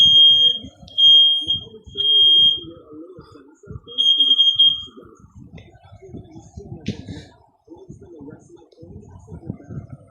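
Several bursts of high-pitched interconnected smoke alarms on other floors of a house beep repeatedly, then stop, over steady background rumble and movement; a brief chirp follows later, from the basement alarm.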